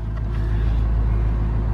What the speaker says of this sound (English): The truck runs so smoothly.